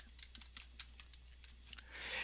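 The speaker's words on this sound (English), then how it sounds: "I'm going to type the word between." Someone types on a computer keyboard while building a database query, producing a quick, quiet run of separate key clicks at close range, and a soft noise swells near the end.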